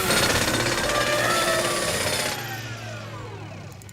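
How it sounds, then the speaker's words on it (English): A cartoon supersonic screwdriver gives a loud, buzzing mechanical whir for a couple of seconds, then drops off into a quieter, fading ringing tail. "How about the number 9 supersonic screwdriver?"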